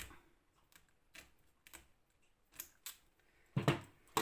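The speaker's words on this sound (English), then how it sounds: "And then I just take my scissors and I cut it." Scissors cut tape while finishing a diamond painting, giving a few sharp, close snips and clicks spaced apart in otherwise quiet surroundings, with a louder cluster of cuts near the end.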